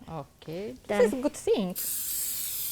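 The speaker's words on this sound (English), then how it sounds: "we'll take our cooking spray, open it up, and we'll just spray a little on each grit" Cooking spray hisses from a can onto an electric grill at home in one steady, close spray of about a second, right after a person speaks briefly.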